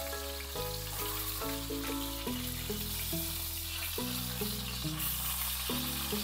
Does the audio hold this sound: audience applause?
no